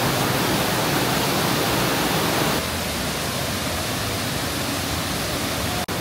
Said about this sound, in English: The most spectacular waterfall in Maribaya, Bandung.